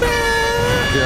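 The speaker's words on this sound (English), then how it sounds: "Here comes the air horn." Air horn blast from a video game, one sustained loud tonal honk with strong steady harmonics filling the whole moment, no break in it.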